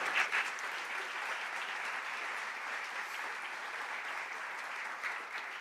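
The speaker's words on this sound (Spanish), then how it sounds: "Dale un aplauso a él." A church congregation gives a round of applause during a sermon, steady sustained clapping from many hands, fairly distant and even in level with little else over it.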